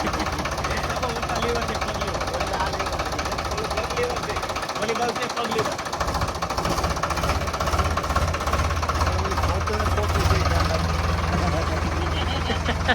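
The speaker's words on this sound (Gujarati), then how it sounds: "આ તો ઉપડ્યો ટ્રેક્ટર ભાઈ" A tractor engine runs steadily throughout, a loud rough knocking chug with a heavy low rumble, dropping out briefly in the middle before resuming and rising slightly, while people talk over it.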